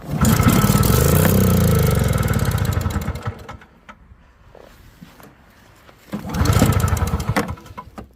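Small Yard Machines snowblower engine on half choke, running loud and rough with a steady buzzing drone, dropping to near silence midway before surging back up strongly.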